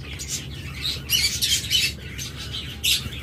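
Diamond doves in a breeding setup, sitting in egg-laying pots, give off short bursts of squawking and chirping calls over a steady low background hum.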